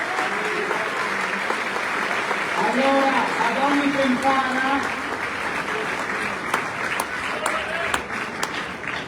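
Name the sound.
crowd applause at gala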